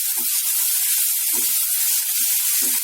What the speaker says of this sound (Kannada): ಈಗ ಜಸ್ಟ್ ಅದು ಬಿಸಿಗೆನೆ ಸೊಪ್ಪು ಚೆನ್ನಾಗಿ ಫ್ರೈ ಆಗುತ್ತೆ